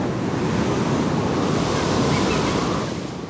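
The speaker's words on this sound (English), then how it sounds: "Storms whip up waves like liquid mountains." Stormy ocean waves and howling wind in the Roaring Forties, a continuous roaring wash of surf and gusting air, loud and unbroken throughout.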